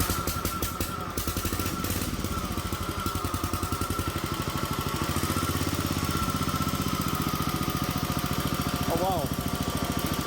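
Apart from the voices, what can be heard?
1968 Sears Super 12 garden tractor engine starting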